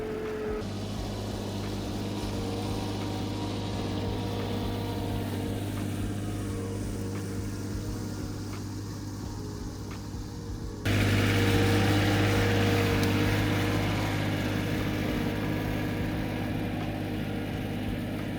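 A tractor engine drones steadily while dragging logs, a moderate mid-pitched rumble that holds constant and grows somewhat louder partway through, with no talk.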